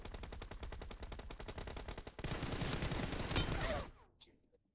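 Rapid automatic gunfire in the battle royale game PUBG Mobile, a steady stream of loud close shots that turns into a denser burst of fire, then cuts off and fades into near silence.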